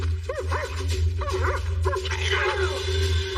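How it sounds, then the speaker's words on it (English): A dog barks and yips sharply in quick repeated bursts over a loud steady low hum, with agitated whimpering cries mixed in. "Suddenly, the dog snaps and makes a beeline for the neighbor."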